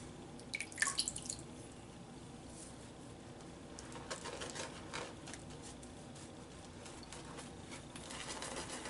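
Water is dripped onto PAA John Frum CK-6 shaving soap lather during a traditional wet shave, making faint, scattered drips and soft patter over a quiet room.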